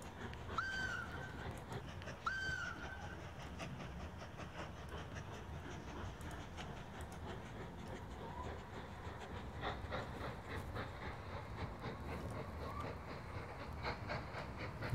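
Train running in the railway tycoon game Mashinky, with a continuous rumbling rail clatter throughout and two short whistle-like tones near the start, steady and moderately loud.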